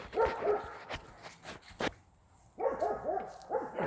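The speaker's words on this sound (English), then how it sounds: "Barking at my neighbors." Dogs bark at the neighbors near a spot where wood is being chopped, giving several sharp barks and yips in quick bursts, then a pause, then another burst of barking close to the microphone.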